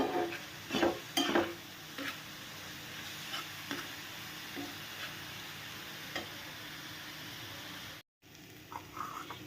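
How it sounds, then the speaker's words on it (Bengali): Fried potato pieces are stirred into a simmering pomfret curry in a pan, giving a soft, steady sizzle with a few quiet utensil scrapes and clinks near the start. No voices are present. "এবার দিয়ে দিলাম যে আলুটা ভেজে রেখেছিলাম"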